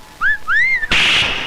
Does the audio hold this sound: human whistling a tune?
yes